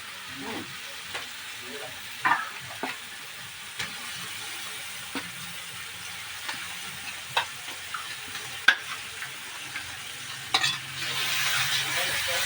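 Fish curry with gravy fries in a pan at a roadside Bengali rice hotel, with steady sizzling under repeated sharp scrapes and knocks of the stirring spoon, and a hiss that swells at the end.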